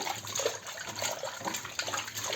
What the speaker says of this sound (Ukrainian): Тепер нарізану картоплю ми добре отако її промиваємо, аби промити трошки цей крохмаль.